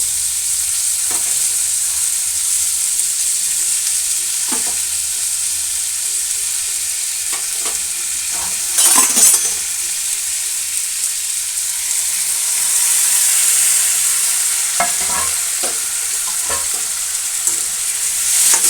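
Four tomatoes frying in a pan for an egg omelette tomato curry hiss with a constant loud sizzle while a spoon stirs and scrapes against the pan in occasional clinks and rasps, with no talking.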